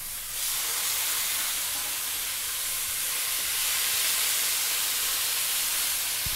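Pork loin chops fry in a skillet over medium heat with a Filipino-style marinade, giving off a steady, loud broadband sizzle that holds evenly throughout with no talking.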